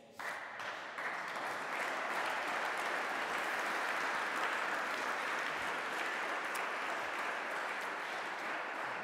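A large audience claps steadily and densely for several seconds, a sustained wash of applause without speech.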